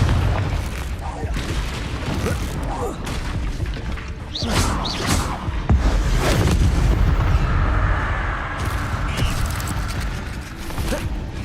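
Fiery Confringo spell blasts in the Hogwarts Legacy video game, with booming impacts and crackling bursts rolling over a dense layer of game effects and music, loud and continuous for the whole stretch.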